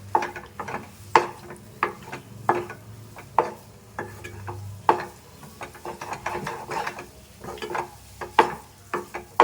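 A spoon works thick cooked modak dough mixed with grated coconut in a pan, giving steady, close scraping and stirring strokes with a faint sizzle underneath.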